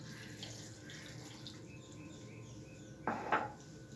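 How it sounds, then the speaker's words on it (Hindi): Half a cup of water is poured into a pot of tomatoes and onions for a chicken karahi gravy: a short, close splash lasting under a second near the end, over quiet kitchen background. "इसमें आप आध कप पानी डाल दें"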